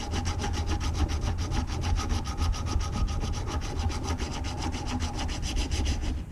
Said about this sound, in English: Drag the sandpaper across, kind of at an angle on that surface.